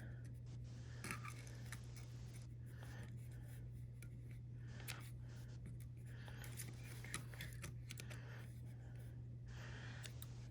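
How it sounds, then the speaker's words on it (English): Scissors snip an extra length of string for a DIY string art piece, a few faint, short cutting clicks at close range over a steady low hum. "I'm just gonna cut my extra string"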